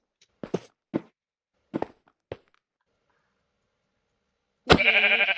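A sheep bleats loudly near the end in Minecraft, after a few sharp knocks or footsteps spaced apart in otherwise quiet surroundings.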